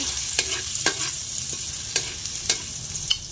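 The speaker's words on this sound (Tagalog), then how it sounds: "Atin na po ilalagay itong bawang" Garlic hits hot oil left over from frying fish, giving a steady sizzle broken by a few sharp scraping stirs of a utensil against the pan.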